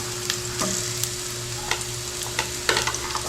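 Onions fry in a pan with a steady background sizzle, broken by occasional light clicks and scrapes of stirring. A constant faint hum runs underneath.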